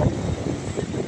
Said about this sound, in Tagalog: Napakaingay ng hangin.